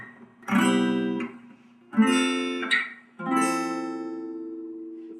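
Acoustic guitar strums three separate minor seventh and major seventh chords, each one ringing out clearly and decaying, close and moderately loud, with short gaps between them and no voices.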